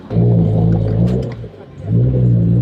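A loud turbocharged BMW E36 engine drones close by, revving to high RPM and easing off with a brief dip in the middle before building again.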